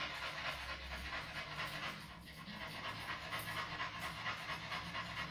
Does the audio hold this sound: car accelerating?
no